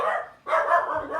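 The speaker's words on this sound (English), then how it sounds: "Sorry, that's my dog barking." A pet dog in a home barks twice in quick succession, loud, close and sharp, filling the short moment with no speech over it.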